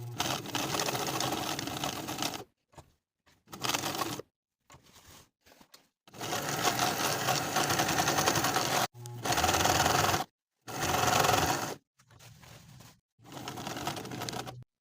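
A sewing machine top stitches along the outer edge of a placket in bursts of fast, even mechanical whirring separated by short silent pauses, close and clear.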